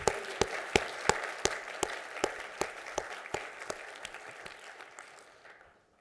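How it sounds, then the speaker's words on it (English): An audience applauds this year's honorees at a medical school award and portrait presentation, a steady burst of clapping with distinct claps standing out, tapering off and fading toward the end, with no talk over it. "Can we give them another round of applause?"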